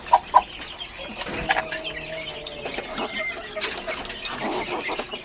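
Cornish Bantam chickens clucking nearby, two sharp clucks at the start followed by scattered softer clucks and a faint drawn-out call, with light background noise.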